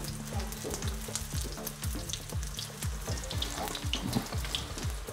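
Eggplant slices fry in hot oil, giving a steady close sizzle broken by rapid popping and crackling bursts from the pan.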